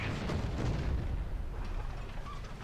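A Tiger tank takes a hit in War Thunder: a loud, dense rumbling blast of explosive noise that fills the whole stretch, slowly tapering with some crackle toward the end.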